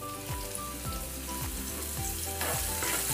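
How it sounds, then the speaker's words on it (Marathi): Finely chopped garlic and green chillies sauté in hot oil for a Maharashtrian dahi kadhi, giving a loud, steady sizzle with the clatter of a spoon stirring the pan throughout. "हिरव्या मिरच्या आणि लसूण तेलात चांगला परतून घ्यायचा आहे।"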